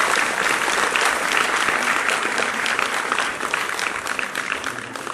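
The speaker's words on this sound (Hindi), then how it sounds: "जोरदार तालियां तो होनी चाहिए सबके लिए" An audience at a ceremony honouring the Universal Theatre Academy Jaipur gives sustained, dense applause that stays steady and loud for several seconds with no pause.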